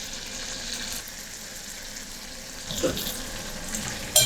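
Garlic and parsley sizzle in olive oil in a frying pan as they are stirred, a soft, steady fry with a brief scrape of the utensil partway through and a clink at the end.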